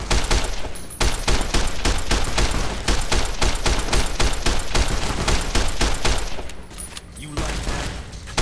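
Rapid automatic gunfire trades back and forth in Fallout New Vegas, dense loud bursts of shots hammering almost without pause, broken by a brief lull near the end, with voices underneath.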